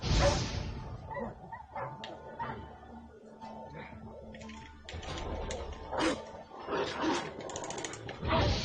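Dogs bark and yip in The Witcher 3 game in short, scattered bursts, fairly faint and mixed with other game sounds and clanking effects.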